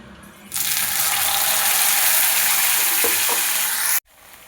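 Spice paste dropped into hot oil already tempered with bay leaves and a dried red chilli bursts into a loud, dense sizzle that holds steady for a few seconds, then cuts off abruptly.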